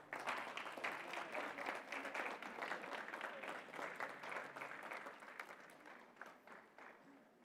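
Sustained audience applause at a women's economic assembly as the President departs, dense steady clapping filling the room and slowly tapering toward the end, with no voices over it.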